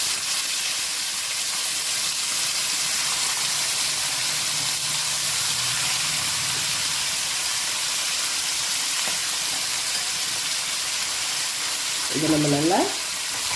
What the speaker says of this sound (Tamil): இப்போது நம்ம அந்த மேரினேட் பண்ணுற மட்டன் பீசஸ் எடுத்து போடலாம்.